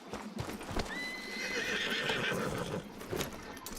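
Horse hooves clip-clop steadily in Red Dead Redemption 2, with a whinny partway through, set against ambient game sound and a faint tonal backdrop.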